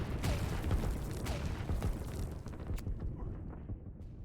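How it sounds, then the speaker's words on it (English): Artillery fire in the real-time strategy game Line War: a steady roll of deep, overlapping booms and bursts, loud and continuous for a few seconds before thinning out. "Got some artillery backing that up"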